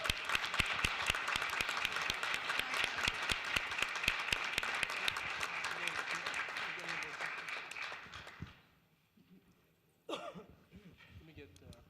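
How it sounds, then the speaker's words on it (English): City council meeting audience giving a round of applause, a dense run of many hands clapping that fades out, leaving near silence before a brief burst of noise returns at the end. "Let's give her a round of applause."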